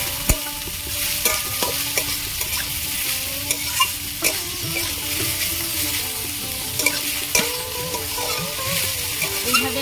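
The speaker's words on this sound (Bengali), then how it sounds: "এইভাবে আমি কিছুক্ষণ ভালো করে লাউটা কাঁচা গন্ধ আসা পর্যন্ত ভালো ঘি দিয়ে আমি লাউটা ভালো করে ভেজে নিয়েছি" Grated bottle gourd fries in ghee with a steady dense sizzle while a spatula knocks and scrapes the pan in irregular strokes, close and fairly loud, with no voices.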